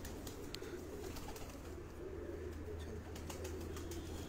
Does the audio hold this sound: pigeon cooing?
yes